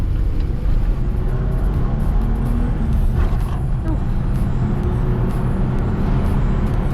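A truck with a 3-liter V6 engine accelerates with a steady, loud low rumble and road roar, heard from inside the cab.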